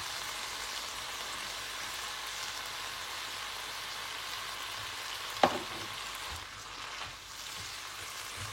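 Seasonal vegetables with a little chilli cook in a hot pan for vegetable pancakes, a faint, even frying hiss broken by one sharp knock of the utensil before it quiets.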